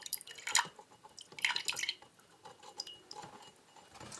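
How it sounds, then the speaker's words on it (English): Excess tea poured out of a seed germination tray for chillies and peppers, heard as a run of close, quiet drips and small splashes of liquid, loudest in the first two seconds and then thinning out. "I will pour out the excess tea from the tray. I'll just pour that out like that."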